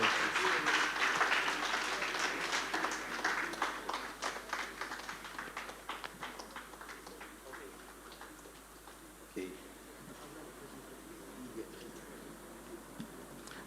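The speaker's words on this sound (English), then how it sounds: "A round of applause for Justice Jones Victor Molo Duce" An audience at an awards ceremony applauds, with dense clapping that is loudest at the start and gradually thins out, fading to scattered claps near the end.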